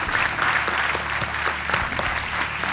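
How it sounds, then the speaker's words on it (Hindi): A studio audience on a quiz show bursts into dense, steady applause to welcome a guest joining as a contestant's friend, a continuous wash of many hands clapping with no talk over it. "आइए, तालियों के साथ आपका स्वागत।"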